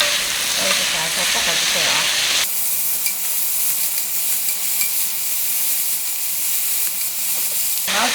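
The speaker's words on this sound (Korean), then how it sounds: "센 불에 계속 볶고 있는데 그래도 감자는 안 타거든요" Potatoes stir-frying in oil over high heat for a Korean potato side dish, a loud continuous sizzle with stirring scrapes, briefly interrupted partway through.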